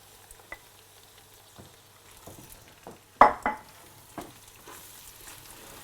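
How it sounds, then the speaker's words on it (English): Squid and chorizo stirred and frying in a pot, a quiet sizzle under scattered scraping and clattering stirs, with one louder clunk of a utensil against the pot midway. "it's all stirred around and takes on all the chorizo juices, all those lovely yellow oily juices"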